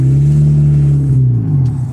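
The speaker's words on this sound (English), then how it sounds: "I didn't pay attention to how I was revving it up" A car engine holds a loud, steady rev close by for over a second, then the pitch sags and fades slightly as the throttle eases off, with no talking.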